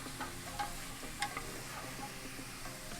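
Onions frying in oil in a big pot are stirred for homemade chili, giving a soft, steady sizzle broken by a few light scraping clicks of the spoon, with no talking.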